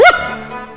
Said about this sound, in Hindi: मालिक का कुत्ता।